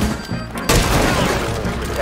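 Gunfire in Rainbow Six Siege erupts as a loud, dense burst of shots after a brief lull, over game sound with voices of teammates in the background.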